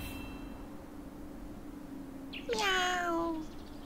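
A cat in the Throne and Liberty video game lets out a single clear, drawn-out meow that rises then falls, heard near and loud over a steady game background hum.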